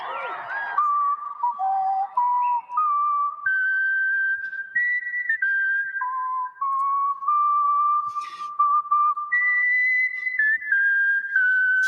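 A four-time whistling champion whistles the Star-Spangled Banner, a loud, clear solo melody of sustained, pure notes stepping up and down, with a brief breathy onset and short gaps between phrases.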